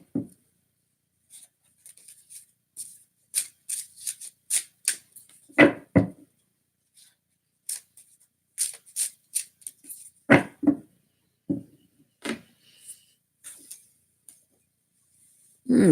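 Tarot cards being shuffled by hand, with irregular bursts of soft papery riffles and slaps, a few louder thumps as cards drop, separated by short pauses, close and quiet with no talking.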